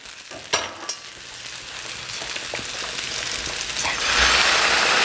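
Pasta cooking water pours into a hot pan for a doenjang pasta sauce, setting off a loud, steady sizzle that swells in the last second, with a couple of clanks near the start.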